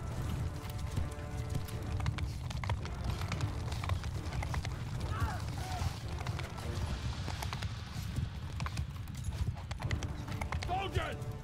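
Horses gallop with dense, steady clip-clop hoofbeats in Mount & Blade II: Bannerlord, a battle scene with occasional whinnies, heard under continuous talk throughout.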